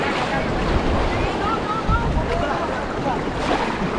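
Ocean waves surge and wash near a small boat, a loud, continuous rush buffeted by wind noise on the microphone, with a voice faintly mixed in.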